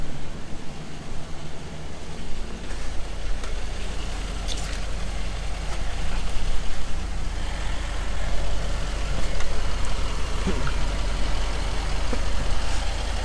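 A Range Rover L322 engine runs at idle in park, a steady low rumble with a constant hum underneath that stays fairly loud and even for the whole stretch, with no voices and only small clicks over the top.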